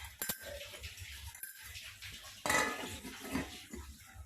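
A metal pot lid clatters down onto a cooking pot, with several close clinks and a brief rattle, quiet and without talk.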